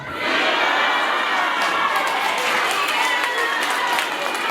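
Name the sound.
crowd cheering for new Chadema party members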